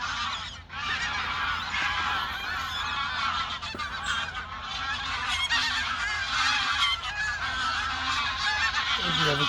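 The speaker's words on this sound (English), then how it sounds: "There's another geese flyby." A flock of geese honks continuously as it flies over woodland fishing waters, the calls loud and layered over steady outdoor background.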